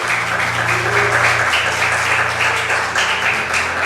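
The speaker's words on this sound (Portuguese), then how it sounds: "Dê um aplauso ao Senhor e glorifique a Ele." A church congregation applauds the Lord in a loud, continuous burst of many hands clapping, close and steady from start to finish, with a low hum running underneath.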